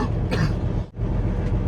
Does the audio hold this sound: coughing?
yes